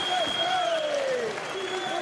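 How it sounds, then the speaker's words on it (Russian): Applause from a spectator crowd in Khabarovsk at a kickboxing bout. It is a steady wash of clapping under someone commentator's continuous voice. "Сейчас аплодисменты стороны хабаровского зрителя возникают."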